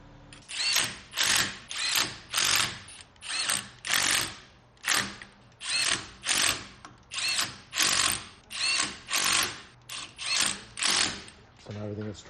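Power tool driving bolts back into a Jeep JKU Rubicon rear differential cover, a steady series of about fifteen short, loud whirring bursts in even rhythm, close up with no talk.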